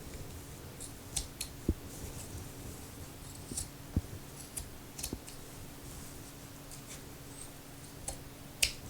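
Scissors snip quietly through lace fabric for a nightgown, faint sparse clicks and cuts spaced irregularly against a soft room hum.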